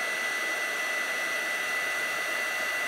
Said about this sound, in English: I'm just going to get the heat gun and we're going to heat set this really quickly